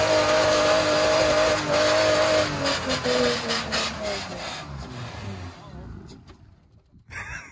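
An old Mitsubishi 4x4 engine revs loud and steady, then its pitch sags and it sputters down toward a stall, ending with a few rattling bursts.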